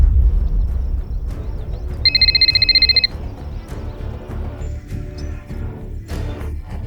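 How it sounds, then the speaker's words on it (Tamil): A telephone rings once in a short electronic burst of about one second, set against a low rumbling background with no talk. "பயந்து போயிருந்த நித்யா கடைசியில் மிஸ்டர் ஷேடோவுக்கு போன் செய்தாள்."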